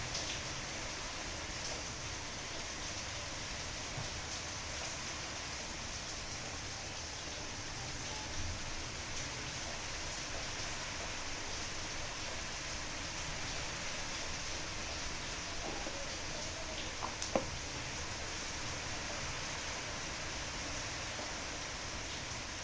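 Steady rain falls outdoors during a live painting demonstration, a dense even hiss that never lets up, with a couple of faint knocks near the end and no voices.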